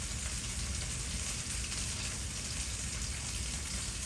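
A boiled potato fries in a pan, giving a steady, dense sizzle that holds evenly throughout, close and fairly quiet, with no voices.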